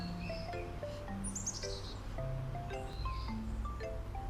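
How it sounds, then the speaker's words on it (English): Several birds chirp and whistle in short, clear calls scattered throughout, with a soft steady rustle of wind or leaves beneath. "I heard a noise. Some chirps."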